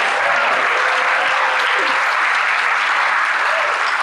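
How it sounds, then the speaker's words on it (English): Sustained, loud audience applause at a Capitol summit, a dense even wash of clapping from start to finish. "Let's give them all a round of applause."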